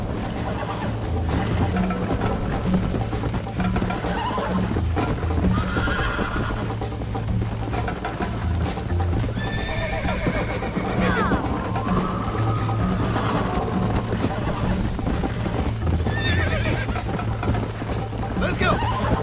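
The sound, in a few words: horse galloping and whinnying in Red Dead Redemption video game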